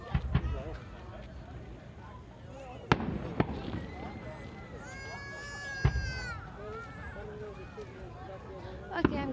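Victoria Day fireworks in Peterborough, Ontario, with several sharp bangs spaced a few seconds apart, heard at a distance beneath lively chatter from people nearby.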